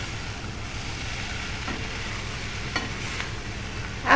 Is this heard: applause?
no